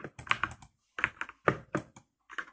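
Typing on a computer keyboard used with a mouse for gaming practice, with close, crisp key clicks in quick bursts separated by brief pauses.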